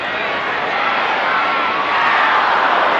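A 1995 Australian football crowd at Geelong versus Footscray roars loudly and continuously, appealing for a free kick, and the broad noise swells toward the end.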